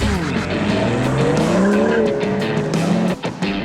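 A car on Michelin Pilot Sport 4S tires runs an autocross course, its engine revving loudly and close while the tires squeal and skid through continuous hard turns, with no talking.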